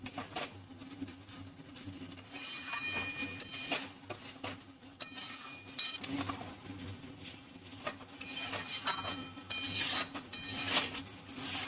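A spoon scrapes and clinks against a pot while stirring ghee and garam masala into vegetarian Bengali dum aloo. The stirring is close and irregular, with soft metallic taps and rattles and no talking.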